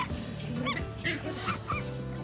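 A dog barks and whimpers in agitation among a litter of puppies, short yips and whines breaking over a steady indoor background hum.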